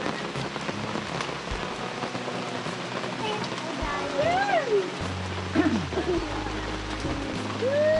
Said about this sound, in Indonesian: Dan hujan semakin berterusan.